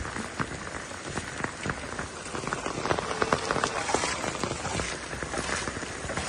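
Heavy rain falls during village net fishing from a boat, a dense, steady patter of drops striking water and surfaces, close and continuous with irregular louder splats throughout.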